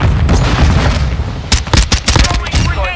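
Intense video game firefight with bursts of gunfire and booms crackling loudly and continuously, sharp louder volleys punching through in the second half, in a military shooter with mortars and grenades in play.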